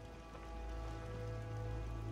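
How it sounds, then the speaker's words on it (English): Steady rain falls in Fallout 4, a continuous hissing patter over a low hum, moderately quiet with no voices. "Hope this rain lets up soon."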